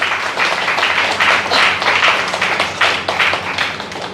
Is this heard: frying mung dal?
no